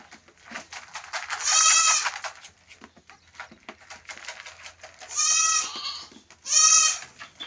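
Goats bleating nearby on a small livestock farm, three loud wavering calls spaced across the stretch over quiet rustling background.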